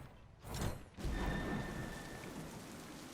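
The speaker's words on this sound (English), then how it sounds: "There's the rain, and then let's ult." Rain sound effect from a skin ability in the video game SMITE: a steady broadband hiss of falling rain swells in after a brief whoosh and holds loud and close, with a faint tonal shimmer on top.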